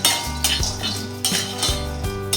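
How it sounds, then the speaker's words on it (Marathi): Peanuts roasting in a pan for sabudana khichdi rattle and clink against the metal as they are stirred, in repeated close, bright bursts. "तर आता शेंगदाणे भाजायला घेतले."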